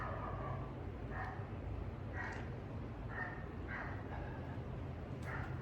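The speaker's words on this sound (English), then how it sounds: "And if you can hear, my dog is very jealous." A dog whines and yips in short separate bursts at a moderate distance, sounding faint over steady background hiss in a room during a yoga session.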